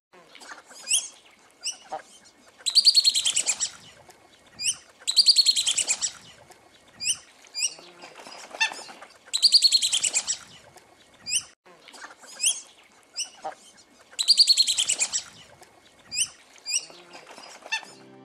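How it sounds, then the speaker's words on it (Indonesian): A blipis kembang bird sings in repeated bright, warbling phrases at regular intervals, interspersed with short chirps and clicks, clear and close with no voices. "sedikit contoh kicauan daripada burung blipis kembang gacor"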